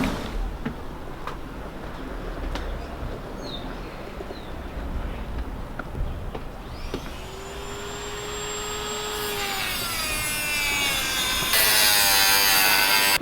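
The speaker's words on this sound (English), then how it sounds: "That's a Dremel. That thing's pretty cool. Dremels are awesome. You can use them for etching and sanding and cutting." A Dremel rotary tool sands during boat maintenance, a high motor whine that rises and shifts in pitch as it works against the surface, steady and close, growing louder toward the end.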